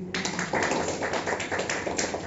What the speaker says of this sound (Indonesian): Kasih tepuk tangan begitu.